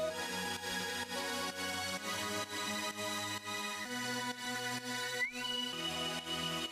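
Whistle-like synth lead in an electronic music mix, playing a melodic line over sustained pads and a steady beat, with a bright gliding note near the end, continuous and full.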